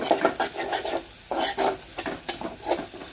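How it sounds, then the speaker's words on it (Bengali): Ingredients for potato dal cooked without boiling fry in a pan until reddish, with a soft sizzle broken by quick, repeated spatula scrapes and stirs. "আমরা এগুলোকে একটু লাল লাল করে ভেজে নেব।"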